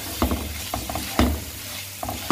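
Spices for a chicken-based Coto Makassar broth are stir-fried in a pan, soft sizzling with several distinct scraping stirs of the utensil, close and moderately quiet, no talking.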